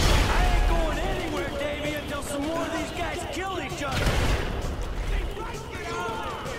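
Gunfire in Grand Theft Auto V, heavy bursts and booms mixed with a chaotic game soundscape, with voices talking over the shooting throughout.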